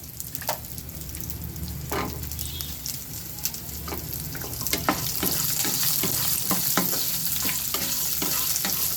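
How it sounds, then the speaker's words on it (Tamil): Peeled shallots and coriander seeds are sautéed in a pan for a chutney, giving a steady close sizzle broken by occasional scraping stirs of a spoon against the metal, growing a little louder partway through. "நம்ம சின்ன வெங்காயம் உரிச்சது அதையும் இதில் போட்டு வதக்கிங்க"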